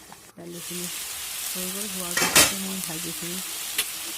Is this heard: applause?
no